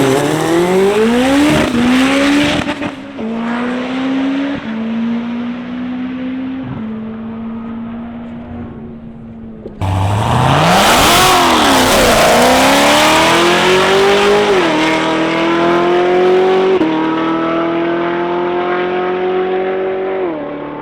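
A twin-turbo car tears down a drag strip, its engine loud and close, climbing through gear after gear in rising sweeps, then a second hard launch roars even louder and keeps howling up through the shifts.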